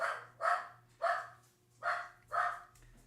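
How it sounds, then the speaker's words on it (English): Several dogs bark in a home as a family member comes in the door, giving five loud, evenly spaced bursts of barking close by, with a short yip at the end. "so the dogs are announcing his arrival"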